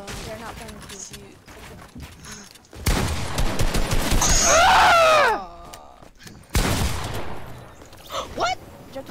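In a shooter video game, bursts of rapid gunfire crackle through the mix, with a dense, loud volley in the middle and sparser shots around it, while players talk and react over the game sound.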